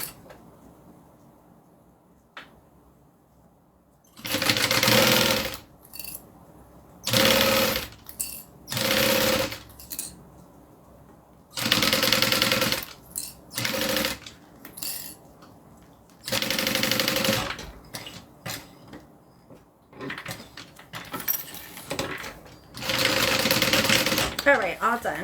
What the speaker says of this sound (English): I'm going to sew the other side.